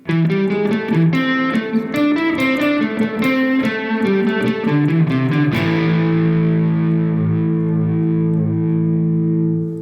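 Overdriven electric guitar plays a choppy rock riff of repeated chords, then ends on a long ringing chord that sustains and slowly fades.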